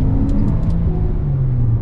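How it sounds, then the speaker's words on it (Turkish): A Chery Omoda 5 with a dual-clutch automatic transmission on the move gives a steady, close, low mechanical drone with faint whining tones drifting in pitch, and no voices. "Değişik bir ses çıkıyor şanzımandan"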